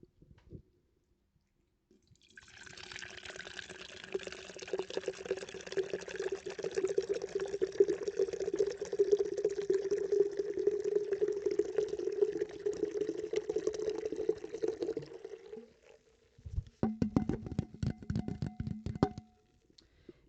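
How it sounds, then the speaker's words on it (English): Arizona Fallout pomegranate energy drink pours in a steady, close stream for about thirteen seconds, a continuous fizzy splash that rises slightly in pitch as the glass fills, followed by a brief second trickle and fizzing. "let's pour this and let's see how this drink tastes"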